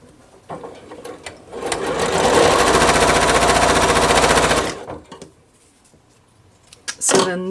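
Sewing machine stitching quilt block pieces for a half-square-triangle block: a steady, loud mechanical whirring run of about three seconds, ramping up and stopping abruptly, with small handling clicks before and after.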